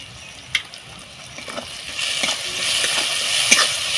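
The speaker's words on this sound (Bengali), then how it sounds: "মশলাটা ভালো করে কষিয়ে নেব।" Spice paste fries in oil for a Bengali tel koi fish curry, giving a rising sizzle with a few sharp spatters and stirring scrapes. It sounds close.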